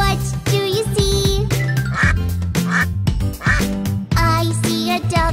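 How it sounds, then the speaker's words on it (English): Cartoon-style duck quacks in a children's nursery rhyme song about farm animals, heard over bright, continuous music with a sung melody, the quacking loud and repeated in a bouncy rhythm. "I see a duck. Quack,"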